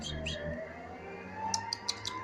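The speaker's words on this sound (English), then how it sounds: "What my pretty birds doing?" Pet birds chirping indoors: a few faint, quick tweets near the start, then a brief cluster of sharper chirps toward the end over a soft background hum, with no talking.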